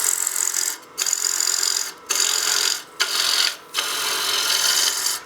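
Wood-turning tool cutting a tenon on a spinning lathe blank for a turned coin box, a loud steady rasping scrape in four long passes separated by brief pauses.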